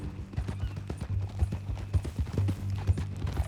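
Horse hooves clip-clop steadily in Red Dead Redemption 2, a rhythmic run of close, thudding steps on hard ground with low rumble beneath and no talk.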